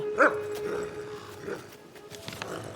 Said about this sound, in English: Using the rope, Arthur approaches the dog, who starts to growl